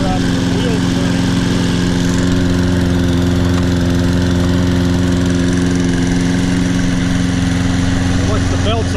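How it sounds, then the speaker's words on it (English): A Toro Personal Pace Recycler 20332 self-propelled lawn mower engine runs steadily and loudly up close, a constant droning hum with no pauses, its self-propel drive not working. "All in all, a very nice mower."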